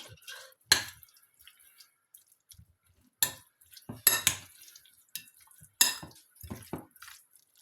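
Pineapple salad with mayonnaise stirred in a bowl, with sparse, sharp clinks and scrapes of a utensil against the dish separated by quiet pauses.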